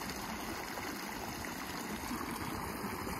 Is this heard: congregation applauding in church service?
no